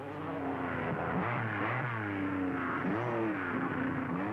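A Lancia Stratos rally car with a rear-mounted 4-cam Ferrari V6 revs loudly and continuously, its engine note climbing and falling through several sweeps with no voices.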